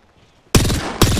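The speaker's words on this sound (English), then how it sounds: "Knuckle cluster's firing." In the Apex Legends shooter, Fuse's Knuckle Cluster fires after a quiet moment with a sudden, loud, crackling burst, then a second sharp blast half a second later.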